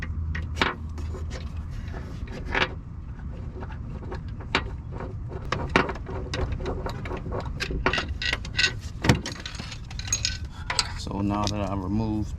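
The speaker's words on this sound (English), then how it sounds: "So I'm gonna go ahead and take my manual ratchet, reach back there." Manual ratchet clicking as a bottom alternator bolt is backed out on a 2015 Chevy Impala, with scattered metallic clinks and ticks of tool on metal throughout, fairly close, no talking.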